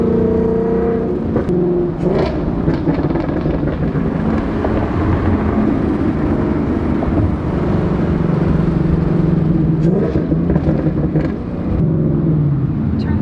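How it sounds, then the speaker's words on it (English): A boosted 2018 Ford Mustang GT with a burble tune roars steadily for several seconds, a deep continuous exhaust drone that swells and eases as the revs shift. "That exhaust is ridiculous, for sure."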